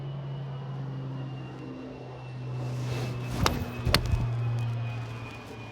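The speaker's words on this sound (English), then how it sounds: "let's wait for this plane to fly overhead" A plane passes overhead outdoors during a football warm-up, a broad low drone that swells slightly midway, with a few sharp ball-catch or thump transients cutting through.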